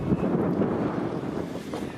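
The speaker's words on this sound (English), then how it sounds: "It's kind of breezy, so we'll see how the windshield works without my external microphone" Breezy outdoor wind buffets a camera's built-in microphone at a campground in Louisville, Ohio, on Halloween weekend, making a steady, close, rumbling roar that stays loud for the whole stretch.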